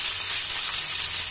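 Onions stirred in hot oil for a paneer and pea curry, producing a steady, close, bright sizzling hiss with no talking.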